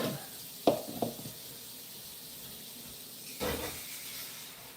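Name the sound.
filling a bowl with water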